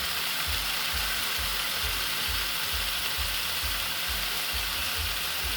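Steak searing in a hot pan: a bright, steady hiss of frying fat runs unbroken, over a low, regular ticking pulse underneath, with no voices.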